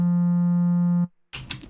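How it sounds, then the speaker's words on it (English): A Behringer Neutron analog synthesizer holds a steady, loud, low sine tone, with its filter fully open and overdrive bypassed, for about a second before it cuts off abruptly, followed by a brief burst of noise. "So here I've got a patch which is just going to make a sine wave for us."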